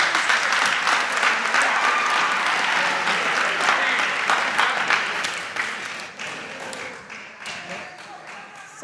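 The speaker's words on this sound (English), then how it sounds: "Please give them another round of applause." An audience at a school quiz competition applauds the contestants, starting loud and full and then thinning into scattered claps that fade toward the end.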